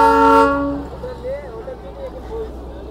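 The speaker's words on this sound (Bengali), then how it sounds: "আর এটা ছিল আপনার ডিজেল ইঞ্জিন, এর ব্যাকগ্রাউন্ড দিয়ে যাচ্ছে, এটা ডিজেল ইঞ্জিন।" A Darjeeling toy train's diesel engine sounds a loud horn blast for about half a second, followed by a lower engine drone with faint wavering tones as it moves off in the background.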